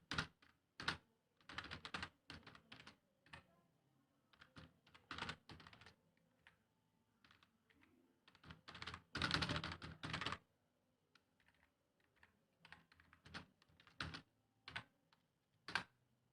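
Code is typed on a computer keyboard in bursts of quick, crisp key clicks separated by short pauses, close and alone in a quiet room.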